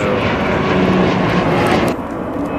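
An airplane departs on the south side, a loud, steady roar of engine noise close by that holds for about two seconds and then drops away sharply.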